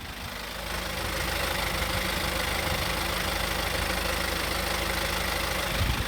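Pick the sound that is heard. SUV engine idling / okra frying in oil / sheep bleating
SUV engine idling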